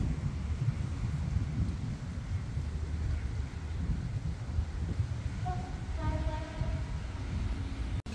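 Train 201 from Bangkok to Phitsanulok rolls past on the Bang Sue curve, a continuous loud rumble with rising tonal wheel squeal toward the end, heard close with no talking.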